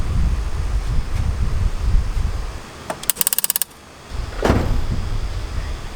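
Nitrous and fuel solenoids on a progressive controller in a street car, a quick burst of about ten sharp rhythmic clicks lasting half a second amid rumbling wind and car noise, followed by a brief whoosh.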